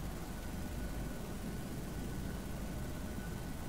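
Steady, dense roar of Airbus A320 engines at takeoff power in the Prepar3D flight simulator, a broad unbroken rumble filling the whole stretch without voices.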